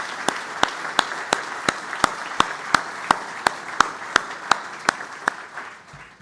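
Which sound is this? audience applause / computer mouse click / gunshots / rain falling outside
audience applause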